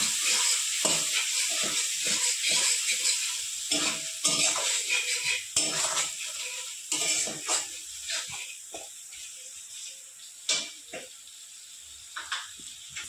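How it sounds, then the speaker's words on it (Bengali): Ground spices, cumin and chilli powder among them, sauté with salt in a pan for a potato and taro curry. A close spoon stirs and scrapes them in short repeated strokes over a constant hiss. "সমস্ত মশলাগুলো ভালো করে কষিয়ে নেব"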